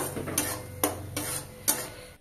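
Broccoli being stirred with spice paste in a pan, a spoon scraping in a few distinct strokes over a faint sizzle, close and fairly quiet, with no voices.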